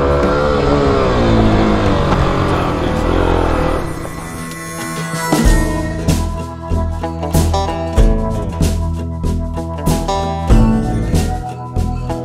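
A Suzuki DRZ400 dirt bike labours up a hill in first gear on single-track trail, its engine droning loud and close before settling into a pulsing, uneven throttle rhythm with repeated revs.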